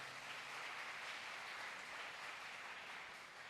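A congregation claps hands during a candle lighting service at a Baptist church, giving a dense, steady wash of applause that sounds faint and distant throughout.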